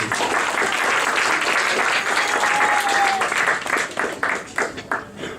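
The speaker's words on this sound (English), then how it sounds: "Give them a big round of applause" A crowd at a Tamil community Chithirai celebration applauds the event's sponsors with sustained, dense clapping that thins out toward the end.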